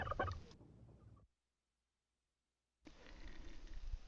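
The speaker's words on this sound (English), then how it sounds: "On the way, we pass some wild turkeys." Wild turkeys gobble on a woodland path above a waterfall: a loud, close, rapid burst of gobbling calls, then a stretch of silence, then faint rustling and background movement.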